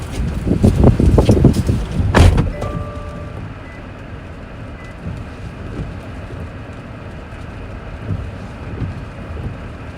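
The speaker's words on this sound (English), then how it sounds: "Hear the wind though?" Strong wind tears across the microphone during a Colorado storm chase, heavy buffeting gusts at first easing into a lower continuous rush, no voices.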